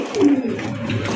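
A large Indian Bombay pigeon gives a low, close coo, a short throaty call over a faint background.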